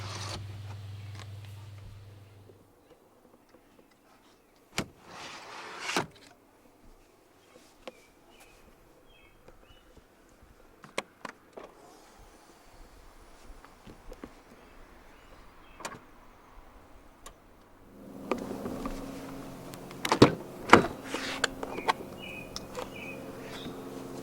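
The power trunk of a 2020 Mercedes-Benz GLC 300 4MATIC whirs as its motor hums for a few seconds, followed by scattered faint clicks and latch knocks, then a longer louder motor drone toward the end; no one speaks.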